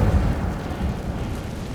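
A sustained low rumbling whoosh of fire from the Incendio spell in Hogwarts Legacy, steady and fairly loud throughout with no voices.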